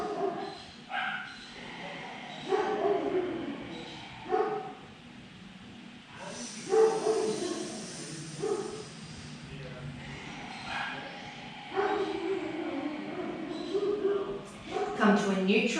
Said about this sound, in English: enjoying the sounds of the neighborhood animals, dogs, chickens, roosters,